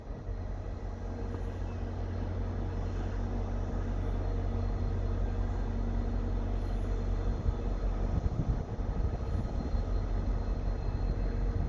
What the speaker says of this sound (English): Via Rail eastbound.